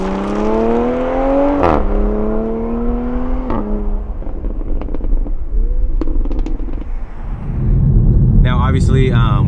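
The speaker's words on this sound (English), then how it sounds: "Oh, those upshifts sound so good." A 2020 Toyota Supra in sport mode accelerates through upshifts, engine tone climbing then snapping down with sharp exhaust cracks at each shift, loud and close, followed by a louder rush of road and wind noise.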